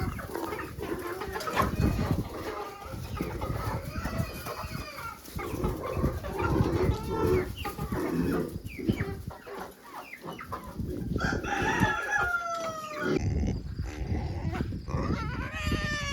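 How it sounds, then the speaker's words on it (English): Several chickens clucking and squawking busily while feeding, close and continuous, with a rooster-like call near the end over a dense farmyard background. "Sorry, Gus, sometimes the chickens have to get food too."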